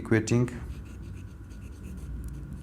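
Writing during a math lesson, faint scratchy strokes of a pen or marker following a short burst of a teacher's speech, steady and soft under room noise.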